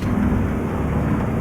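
Steady, heavy rain in Euro Truck Simulator 2 roars as a dense wash of noise, with a low rumble beneath and no voices.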